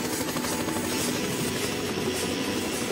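Steady, loud helicopter rotor chop and engine whine, a continuous buzzing drone with rhythmic beating throughout.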